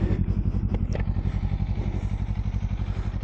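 A 2024 Kawasaki Z-500 motorcycle idles in neutral, its engine giving a steady, loud, close-up pulsing thrum with even rhythm and a brief faint clatter near the start.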